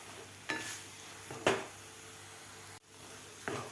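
A grated carrot mixture for gajar barfi is stirred in a pan: a few separate scraping strokes against the metal over a faint, quiet sizzle, with no voices.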